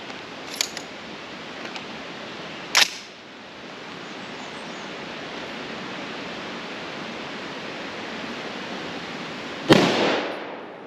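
Two gunshots from an AR-10 rifle firing .308 PMC 147-grain bronze FMJ rounds, outdoors at a range: a sharp crack near the start and a second loud report near the end, both over steady background noise.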